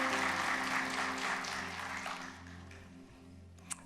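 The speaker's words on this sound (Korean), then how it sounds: "박수로 환영하겠습니다." A congregation claps during a Korean church Sunday worship service in a large room, the applause fading gradually over a few seconds above a low steady hum.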